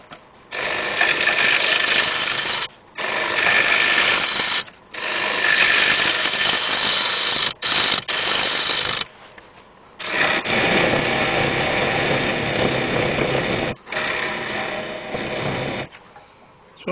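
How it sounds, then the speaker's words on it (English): A wood lathe turns a tenon on a glued-up bowl blank of unidentified wood, giving loud, close, continuous cutting bursts broken by short pauses as the tool lifts off and re-engages. "So I just need to turn the tenon on there."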